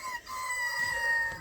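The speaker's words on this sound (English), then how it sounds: "how many chickens you got up in there?" Chickens on a homestead cluck and a rooster crows at night, a sustained close crow over steady clucking with no talk.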